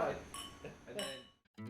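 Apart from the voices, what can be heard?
wine glasses clinking in a toast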